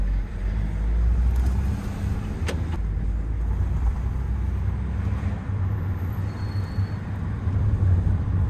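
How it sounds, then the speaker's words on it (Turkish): Steady low rumble of a VW Golf 6 cruising on a short test drive, heard from inside the cabin as continuous road and engine noise with no talk. "Kısa bir test sürüşü yapacağız."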